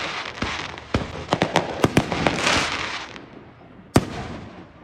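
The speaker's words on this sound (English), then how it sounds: "Let's wait for the fireworks to come." Fourth of July fireworks watched from a balcony, a run of sharp booming bursts and crackles echoing over a rushing background, then quieter before one final loud bang.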